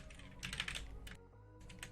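Rapid typing on a computer keyboard, a dense run of close, fairly quiet key clicks that pauses briefly and then resumes, with no speech.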